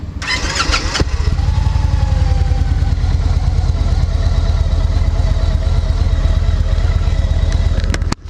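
A Victory Magnum bagger motorcycle engine cranks and fires up, then settles into a loud, steady, close idle with a throbbing low rumble until a brief cutoff at the very end.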